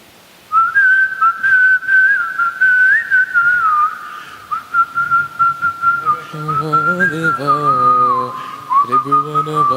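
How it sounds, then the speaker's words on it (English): A human whistler performing in concert, a long sustained melodic whistle line with gliding pitch, loud and close, later joined by a sung or harmonized accompaniment underneath. "He gave a whistle concert"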